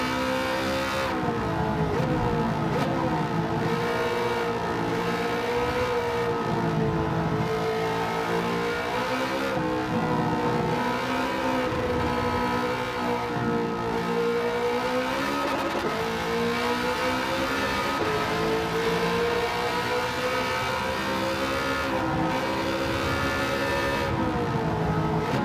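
Cross-plane V8 car engine in Gran Turismo 7 revving hard and continuously, loud and close, with rising and falling pitch through gear changes and no talk over it.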